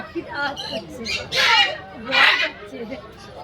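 Two loud, harsh squawks from a large caged bird ring out close by at a bird show fair in Santipur, with scattered chatter and other bird calls around them.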